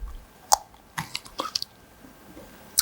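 Bites and chewing on green jocote fruit sprinkled with a few salt crystals: several sharp, crisp crunches spaced out over a couple of seconds, close and clear against a quiet background, with no talking.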